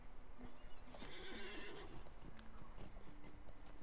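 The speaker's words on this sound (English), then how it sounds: "I do believe I get a horse" Horse neighing and whinnying, then hooves clip-clopping, in the Lord of the Rings Online game; a clear whinny in the middle over a steady, close stream of hoofbeats and game background sound.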